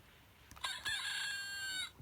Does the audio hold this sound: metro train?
no